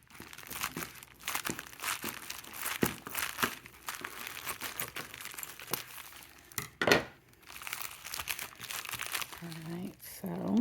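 Intense bubble wrap packaging crinkles and crackles in irregular bursts as it is pulled away from a bronzer, close and fairly quiet, with a person talking over it.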